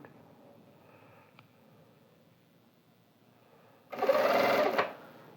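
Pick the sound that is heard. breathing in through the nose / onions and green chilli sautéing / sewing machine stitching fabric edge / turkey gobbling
sewing machine stitching fabric edge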